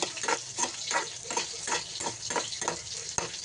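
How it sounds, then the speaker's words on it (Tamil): Dried chillies sautéing in a hot pan, a steady crackling sizzle broken by repeated scraping stir strokes in a regular rhythm, close and moderately loud with no talking. "வத்தலையும் போட்டு நல்லா வதக்கிக்கலாம்."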